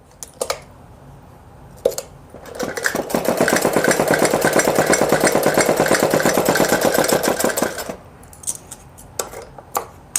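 A sewing machine runs a continuous rapid stitching burst of several seconds while sewing a child's frock. Short clacks and handling noises come before and after the run.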